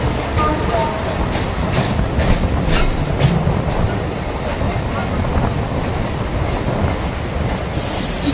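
A local passenger train runs along the rails with a loud, steady rumble and wheel noise, rattling clatter and occasional squeals throughout, close by and continuous.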